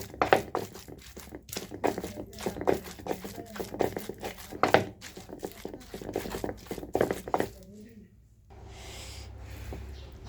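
Bathua greens are ground for bhorta on a stone slab, with repeated rough scraping and crunching strokes in an uneven rhythm, close by, under intermittent talking, then a quieter stretch at the end.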